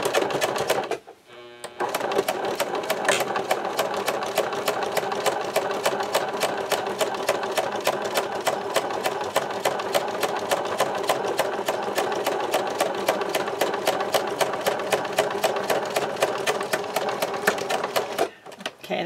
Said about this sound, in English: I'm going to sew them together with a straight stitch all the way down right here